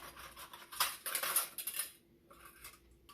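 Metal canning jar lids handled while preparing to can milk, producing light clinking and rattling bursts, loudest midway through, then quieter scattered taps.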